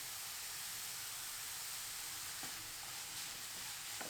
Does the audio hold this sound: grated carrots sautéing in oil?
yes